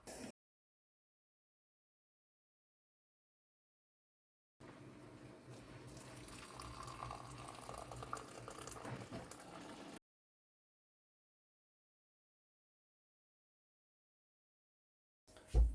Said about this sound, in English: And next I'll add my boiling hot water.